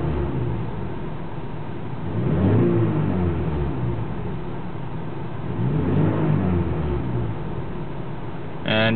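A car engine with a shift light fitted idles steadily, then revs up and settles back twice in two smooth swells, close and fairly loud with no voices.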